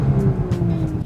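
Audi S4 with a carbon intake and turbo inlet, its engine idling and revving in neutral, a steady low rumble with a faint whine above it, close and continuous for about a second.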